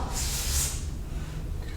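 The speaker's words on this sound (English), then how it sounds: "I'm just gonna spray all the way across the top of it." Lubricant sprayed from an aerosol can across the top of a garage door spring: a short, close hiss that fades into faint room noise.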